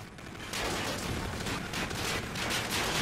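Steady gunfire from several players' weapons in a shooting video game, a dense, continuous rattle of overlapping shots that stays loud for the whole stretch.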